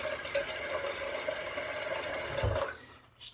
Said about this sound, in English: Just add a couple drops of water here.